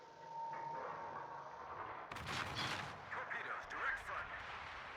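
A naval gunfire volley erupts in the World of Warships video game as a sudden burst of heavy booms and rumbling fire, set against a steady background hum and faint voice.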